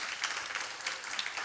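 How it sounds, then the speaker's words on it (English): Audience applause at an improv comedy show, a brief burst of steady clapping from a crowd, fairly soft and even throughout. "Yeah, a round of applause."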